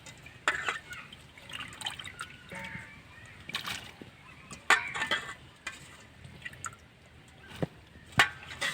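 Potato pieces dropped into a pot of water on a lit stove, set to boil with red lentils; quiet, scattered splashes and drips, with a few sharper plops standing out against a soft background.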